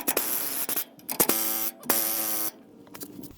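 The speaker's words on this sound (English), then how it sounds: "I'm going to spray a little bit of penetrating oil in there." Penetrating oil sprays from an aerosol can in hissing bursts of varying length, loud and close, during a lift kit installation on a 1999–2006 Chevrolet Silverado, with a harsh buzzing tone under the longer bursts and no talk.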